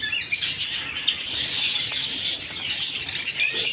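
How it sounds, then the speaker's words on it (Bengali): Java sparrows in a bird shop keep up a busy stream of high, overlapping chirps and tweets, close and lively, with no talk. "এদিকে আছে অসংখ্য জাবা পাখি"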